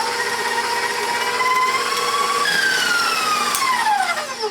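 A kitchen mixer beating cheesecake batter until smooth, a loud steady mechanical whine with shifting tones that bend downward near the end as the motor slows.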